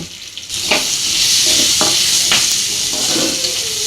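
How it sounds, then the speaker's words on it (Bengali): Yellow and green capsicum lightly frying with salt in a hot pan, a steady loud sizzle broken by several sharp scrapes and clinks of stirring, close up with no talk. "হলুদ এবং সবুজ ক্যাপসিকাম আমি হালকা করে ভেজে নেব।"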